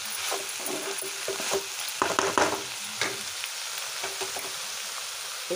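Green beans fry in a pan with a soft, steady sizzle, broken by irregular clatters and scrapes as a utensil stirs them. No one speaks.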